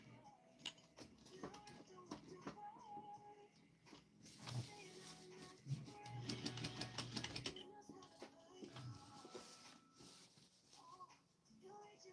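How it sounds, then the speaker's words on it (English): A sewing machine topstitches a garment sewn from a Vogue 1737 pattern, with a dense stretch of rapid stitching in the middle and shorter runs around it. A person talks at times. "The sooner I can get this top stitch, the sooner I can get that sleeve sewn in."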